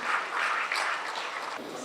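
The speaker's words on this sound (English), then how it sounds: "I think that deserves a big round of applause to our teachers" Audience applause for teachers at a housing event, a soft, distant patter of many hands clapping evenly, fading slightly toward the end.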